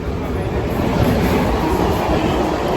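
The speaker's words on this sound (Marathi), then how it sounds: "अशा प्रकारे आम्हाला चर्चगेट ट्रेन भेटलेली आहे" A Churchgate-bound local train in Mumbai rumbles steadily, with continuous broadband rolling noise and low rattling throughout, loud and close as if heard from onboard.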